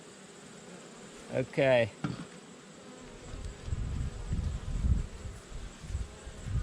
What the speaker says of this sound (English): A lot of bees in here, though.